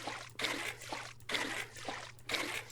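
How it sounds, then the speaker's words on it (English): In the video game Vintage Story, water pours from a bucket into a barrel in three repeated trickling bursts separated by brief pauses, close and soft. "Let's put a bit of water in it."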